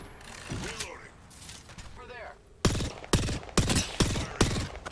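Gunshots in an Apex Legends match as Revenant, a ragged run of sharp bursts in the second half after a stretch of speech and quieter game effects, with players talking over the action.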